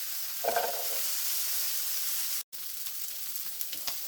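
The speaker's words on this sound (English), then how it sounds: "my onions. And the bacon grease." Onions frying in bacon grease for a bacon, potato, cabbage and kielbasa dish give a steady, close hiss of sizzling. A soft stir is heard near the start, and a brief dropout cuts the sound just before the end.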